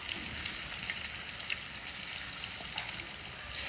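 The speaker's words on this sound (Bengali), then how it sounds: "কাইকা মাছগুলো ভাজি করি প্রথমে" Garfish (kaikka fish) frying in oil in a pan over a wood-fired stove give a steady, close hiss and sizzle with scattered small pops, continuous and unbroken, with no voices.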